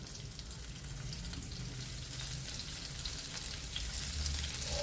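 Small bolenjeri fish frying in oil, a soft, steady sizzle throughout, fairly quiet and close, with no talking.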